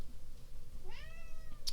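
Indoors, a house cat gives a single short rising meow partway through, fairly close, with a faint sharp tap at the end and no talk over it.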